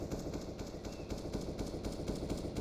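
SMG gunfire rattles in rapid bursts during a competitive CS:GO esports match on the Inferno map, with close, sharp repeated shots.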